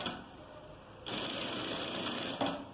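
A sewing machine runs steadily, stitching a half-centimetre seam on a garment, a fast continuous mechanical whir that starts abruptly and holds close and even for nearly two seconds.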